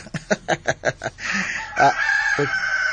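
A rooster gives a rapid series of short clucks, then breaks into a loud, drawn-out crow close by, with another short call at the end and little else around it.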